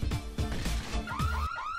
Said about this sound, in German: Oh, ups, Alarm.